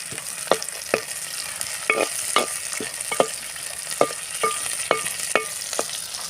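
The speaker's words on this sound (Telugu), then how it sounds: "పచ్చిమిర్చి కరివేపాకు అన్నీ కూడా వేసుకొని చక్కగా ఉడికించుకోవాలి" Green chillies and curry leaves fry with a steady sizzle for atukula mixture, and a spoon scrapes and stirs the pan about a dozen times in short sharp strokes, close and clear with no talking.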